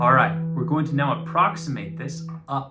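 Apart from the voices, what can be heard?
No everyday noise stands out behind the speech.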